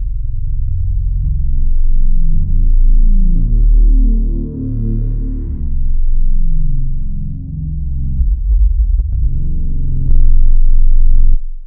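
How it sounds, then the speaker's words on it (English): Deep cinematic boomer samples from bank 3 of the Soundpaint Hybrid Tools library: loud, sustained low rumbling swells with throbbing, sonar-like tones that rise and fall, ending in a brighter, buzzy hit, with no speech. "then beautiful boomers from bank 3 clean"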